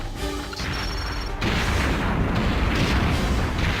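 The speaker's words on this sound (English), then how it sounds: "That's a huge explosion, and I have been hurt by it before." A mine blows up in the video game Perfect Dark, producing a loud, heavy blast that fills the clip with a sustained roaring rumble and crackle. No one speaks.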